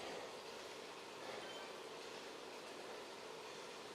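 A passing train in the Zwift cycling video game, heard as a steady, fairly faint rolling rumble of rail traffic that holds at an even level for the whole stretch, with no voices.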